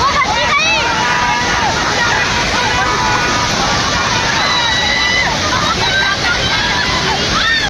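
Fast, swollen floodwater surges and sloshes near a dam, a loud continuous roar with crowd voices and shouts faintly mixed in.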